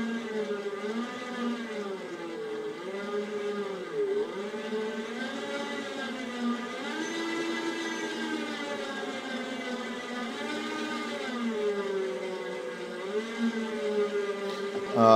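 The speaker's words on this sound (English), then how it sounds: "For this test, I'm going to control actuator in torque mode." A MyActuator RMD-X10 actuator motor driven in torque mode during a bench test gives off a steady whine whose pitch sweeps up and down in repeated waves, loud and continuous with no voices.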